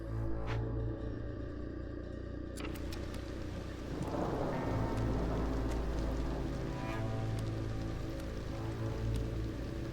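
A storm in a settlement builder game brings steady rain hiss under a low rumble of thunder that swells midway, with a few sharp clicks on top and no voices.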